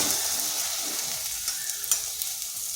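An egg dish with pepper and onion sizzles steadily in a frying pan, a soft scrape and faint clatter marking the moment it is flipped; the frying stays close and even throughout, with no talk.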